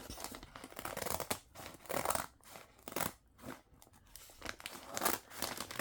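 Scissors cut through crinkly tissue paper for a journal cover, making close, quiet bursts of crisp snipping and rustling crackle with brief gaps between strokes.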